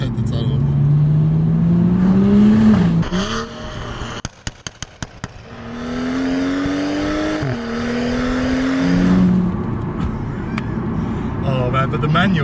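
BMW 135i M with about 390 bhp revving hard inside a tunnel, engine note rising and falling in loud sweeps with sharp crackles between pulls, echoing close by, with a voice talking over it.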